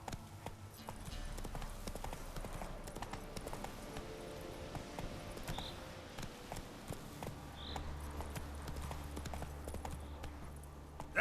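Roach, a horse in The Witcher 3, gallops with rapid, steady hoof clip-clops, close and fairly quiet under game music.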